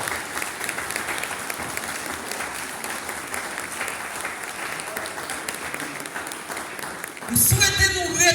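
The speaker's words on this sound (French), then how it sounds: "pas un gros applaudissement pour le groupe soldat." Church congregation at a fifth-anniversary service applauds the group, steady dense clapping filling the space for several seconds, then a sharper burst with brief whistle-like tones near the end.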